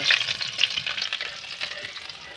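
Garlic stir-fries in hot oil in a pan, a bright crackling sizzle with repeated scraping stir strokes, close and continuous with no talking.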